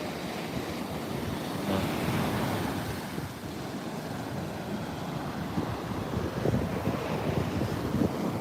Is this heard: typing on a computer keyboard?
no